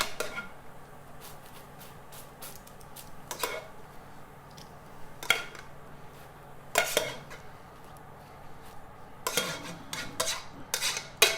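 A bacon and onion mixture is spooned onto hot French fries, with quiet, scattered clinks and scrapes of a spoon against the dish at irregular intervals and faint kitchen hiss between them.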